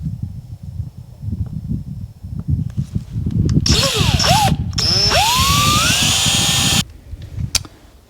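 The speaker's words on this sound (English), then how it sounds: "I've got myself a spot marked right there, so let's drill it" A power drill bores a hole for an alarm sensor in a new-construction home, whining up and down for several seconds with pitch sweeps as the bit bites, then stopping abruptly.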